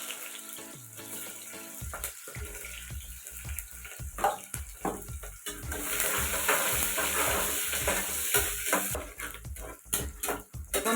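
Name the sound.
onions frying in a pan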